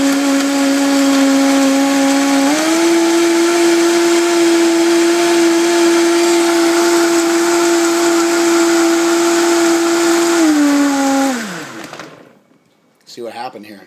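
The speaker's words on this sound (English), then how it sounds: "Got my Vitamix blender, and we're gonna see how poorly this thing mixes up." A Vitamix blender runs loud and close while mixing a protein shake, holding a steady high whine that steps up in pitch early on, then winds down after about eleven seconds before a voice speaks.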